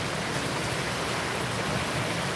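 Heavy rain pouring steadily outdoors in cool weather, a dense, even hiss that stays loud and unbroken throughout with no voices.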